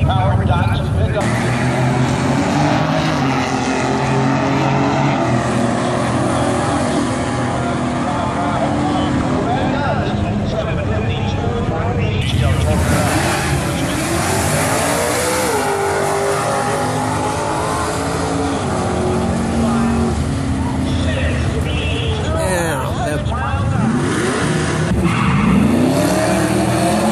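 A 4.3-liter V6 Chevy-powered Datsun pickup launches on the Irwindale eighth-mile drag strip, its engine roaring loud and close with rising revs and tire noise, a sustained race-track din throughout.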